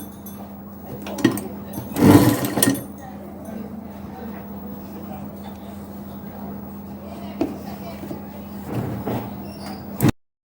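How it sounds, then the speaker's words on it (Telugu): A sewing machine stitching along the lining of a blouse front, with a steady running hum and a few clinks and handling knocks, heard under a voice talking. "ఇలా లైనింగ్ పైనుంచి స్టిచ్ వేసుకుందాం"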